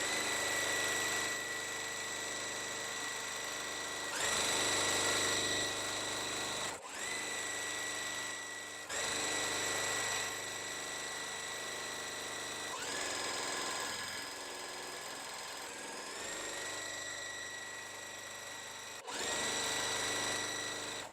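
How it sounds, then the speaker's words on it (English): A sewing machine stitching a quilt block, running in long steady whirring bursts with brief pauses between them, close and loud, with no talk. "I'm going to go on ahead and sew on the finishing part for this block."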